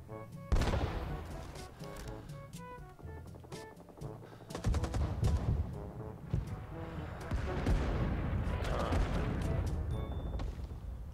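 Artillery barrage in the video game Rising Storm 2: Vietnam: a long stretch of heavy, dense battlefield fire with booming impacts and rapid gunfire, loud and continuous, with faint voices underneath.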